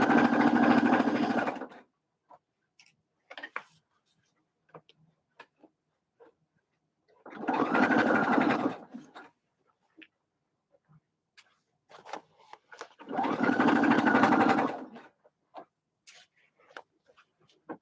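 A sewing machine stitches a fabric bucket hat in three separate loud bursts of rapid, even running, each roughly two seconds long, with quiet pauses and small handling clicks between them.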